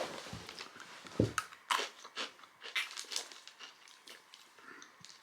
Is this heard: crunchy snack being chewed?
yes